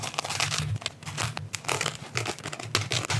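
A knife saws through a foam pool noodle up close, giving rapid squeaky crinkling and tearing strokes in an uneven rhythm for a few seconds.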